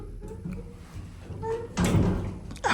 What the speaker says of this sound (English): hopefully I don't bang that gate again.